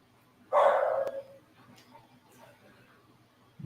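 A dog barks outside a home workshop, one loud bark burst in the foreground, then quiet room tone with faint distant sounds.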